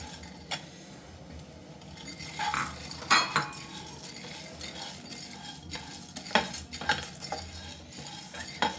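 Pumpkin and sunflower seeds dry roast on a large tawa, stirred and tossed with a utensil, giving scattered light scrapes, clicks and rattles over a low steady background, moderately close with no talking.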